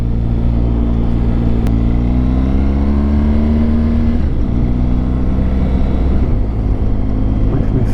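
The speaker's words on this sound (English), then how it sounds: "Well, good news is Keith's bike has started" A motorbike engine runs steadily on a hill road in the Scottish Highlands on the NC500 tour, its low drone rising in pitch as the bike moves off and pulls away, loud and close throughout.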